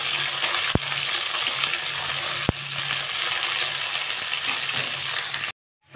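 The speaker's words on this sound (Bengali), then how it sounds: "ফুলকপিটা একটু ভেজে নেব।" Cauliflower and potato fry in a pan, making a steady, fairly loud crackling sizzle, broken by two sharp metallic taps of a utensil, before the sound cuts off abruptly near the end.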